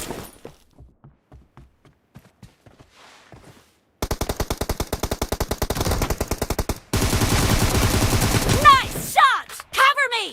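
Gunfire in PUBG Mobile: scattered quiet shots give way to a loud rapid automatic burst, then a denser roaring fusillade with ricochet-like whines near the end, close and dominant.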